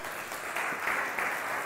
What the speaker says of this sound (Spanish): Así que, bienvenida, un aplauso para Maite.